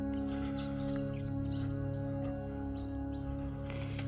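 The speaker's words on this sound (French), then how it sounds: "les petits oiseaux qui chantent" Small birds chirping and twittering in cool woodland near Bourlon in northern France, faint scattered calls over a low steady hum, no talking.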